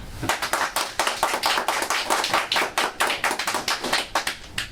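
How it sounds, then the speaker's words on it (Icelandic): A small group clapping for the winning lads at the end of a BigBore competition, a close, moderately loud burst of quick, slightly uneven claps that runs steadily without voices. "Þá er bara að gefa þessum piltum gott klapp."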